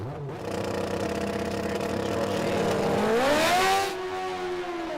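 A manual-clutch drag racing car launches off the start line at a Sydney drag strip, its engine droning steadily and then climbing sharply in pitch as revs rise, before dropping back to a lower, sustained roar; no talk.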